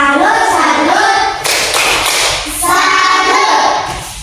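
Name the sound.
children's rhythmic clapping chant tepuk salut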